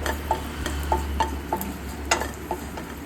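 Dried red chillies and curry leaves fry in oil for a beetroot dish, a soft low sizzle punctuated by light, regular ticks and taps of stirring against the pan, with no voices.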